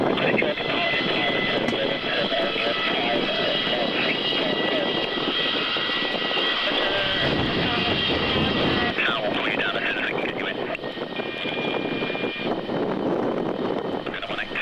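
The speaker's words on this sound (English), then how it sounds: "we know this is a MiG-29" MiG-29 jet fighter flying at a D-Day 50th anniversary event, a sustained engine roar in strong wind, with commentators talking over it throughout.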